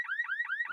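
A car alarm wails in a repeating rising electronic siren, four quick up-sweeping cycles, loud and close, with no voices.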